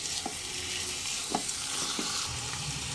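Medium-sized chicken pieces for haleem sauté in a pan, giving a steady close sizzle broken by a few soft scrapes of stirring. No talking.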